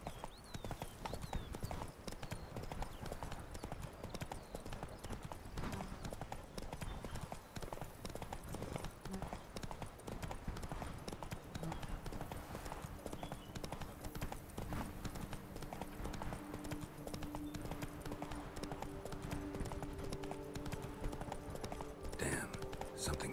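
The horse Roach gallops in The Witcher 3, a continuous rapid clip-clop of hooves running throughout at steady volume over game ambience.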